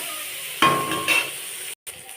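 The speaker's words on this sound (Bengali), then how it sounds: "পেঁয়াজ নাড়ার পরে একটু হওয়ার পর তা হতে দিন, একটু হোক আস্তে আস্তে" Chopped onion sizzles in a pan as a spoon stirs it, with a couple of scraping strokes and light clinks over a steady frying hiss, ending in a brief break.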